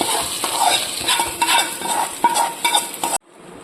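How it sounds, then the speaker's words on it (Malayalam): A spoon stirs koottukari curry in a pan after a sizzling mustard seed, dried chili and curry leaf tempering is poured in, with rhythmic scraping strokes over a faint sizzle, close up, ending abruptly. "എന്നിട്ട് ഇത് നല്ല പോലെ ഒന്ന് ഇളക്കണം"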